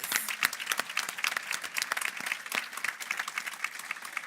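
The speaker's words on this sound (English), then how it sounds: "That deserves an applause." Audience applause at an annual meeting celebrating charitable donations, a moderately loud, crisp clatter of many hands sustained throughout at a fairly even level.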